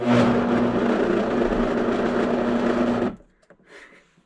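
A Vitamix blender whirs loudly while blending bologna salad, a steady dense motor roar for about three seconds before cutting off abruptly, followed by faint clatter and quiet handling sounds.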